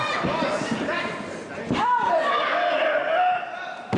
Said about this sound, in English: Body slammed with authority into the center of the ring